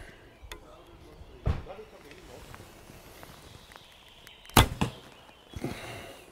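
Arrows with bear shafts loosed from a Paragon Solak bow, giving a few sharp, brief snaps at about 1.5 s, 4.6 s and 5.6 s over a faint outdoor background, with no talking.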